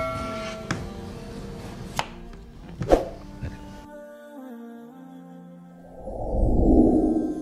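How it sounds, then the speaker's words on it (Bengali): Potatoes being cut with a knife on a board for French fries, a few sharp separate chops spaced irregularly, then a softer whooshing rumble near the end, close and with no speech. "এখন আলুটা কেটে নিব।"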